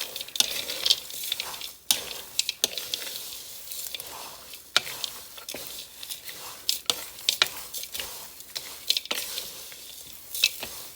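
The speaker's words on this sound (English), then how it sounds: "Stir this up a little bit." A spoon stirs a homemade coconut almond granola mixture of oats and nuts in a bowl, making close, dry, clattering scrapes and rustles in an irregular rhythm with sharp ticks throughout.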